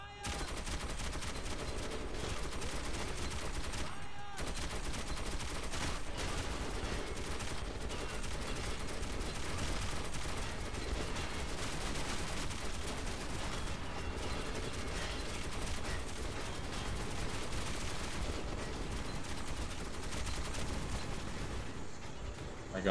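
Continuous dense gunfire in Metro 2033 Redux, rapid automatic bursts layered with heavier shots, steady and fairly quiet throughout, with voices talking underneath.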